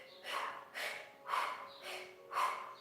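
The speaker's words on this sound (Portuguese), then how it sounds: "Faz a respiração do fogo. Toda vez que contrai o abdômen, solta o ar." Breath of fire yoga breathing during a home yoga and stretching class: five forceful, rhythmic exhalations about every half second, close and fairly quiet, with no talking.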